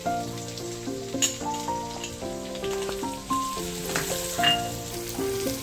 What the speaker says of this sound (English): We'll saute it for some time and then I'm going to add the chopped onions in